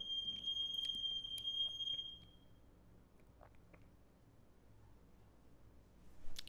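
Smoke alarms going off indoors, a few sharp high-pitched beeps in the first two seconds, then a quiet room with faint background noise and another brief burst at the end.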